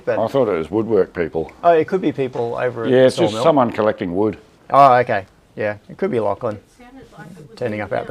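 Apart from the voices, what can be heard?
None of the usual background noises is heard.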